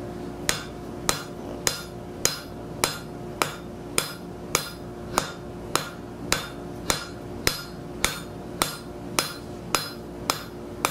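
Hot steel hammered by hand at a forge while being drawn down into a roughly one-inch square rivet bucking bar, about twenty sharp, ringing blows in a steady rhythm, close and loud with no talk.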